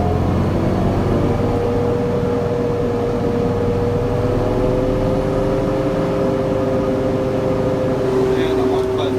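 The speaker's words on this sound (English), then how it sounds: "we wind our knob to bring our revs up" A Plaisance Variotrac VT 300 tractor drives a Serrat orchard mulcher, a loud steady engine drone whose pitch climbs slowly as the revs are raised, heard close up without speech.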